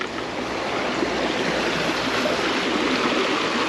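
Running water of a river flows in a steady, dense rush, close and continuous with no pauses, heard alone without voices.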